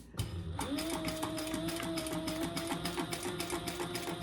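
Sewing machine running steadily as it stitches a sticky-material crossbody bag, a close, continuous rhythmic whir and clatter with no talk.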